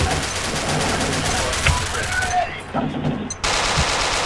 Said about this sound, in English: two electrically operated 50 caliber M2 machine guns